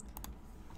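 Quick clicks of a computer keyboard as code is typed, a short soft burst of a few keystrokes close by, with no speech.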